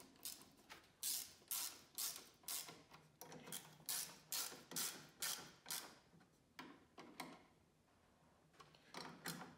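A wrench clicks and ratchets in a quick rhythmic series while tightening hose clamps on the thermostat housing of a Jeep Grand Cherokee 5.7, close and fairly quiet, with a short pause before the final clicks.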